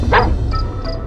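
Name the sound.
distant dogs barking, story sound effect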